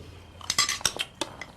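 A metal spoon clinks against a dish in a home kitchen, giving a quick run of bright, sharp taps and scrapes over a soft background, close up with no talking.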